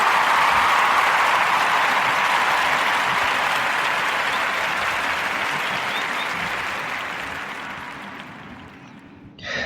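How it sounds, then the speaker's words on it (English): A crowd gives a long, warm round of applause on a podcast, with dense steady clapping that slowly fades away and ends in a brief final sound. "I'm going to give a narrative podcast warm round of applause"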